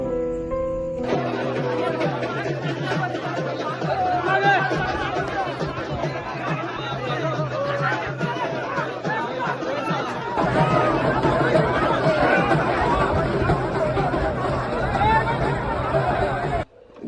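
A huge crowd gathered to see a bull in Pune district makes a continuous babble of many voices and chatter, with a narrator speaking over it throughout.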